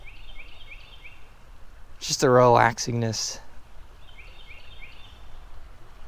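Small birds chirp in a steady repeating pattern beside a creek, with a babbling brook's hiss underneath; someone briefly speaks partway through.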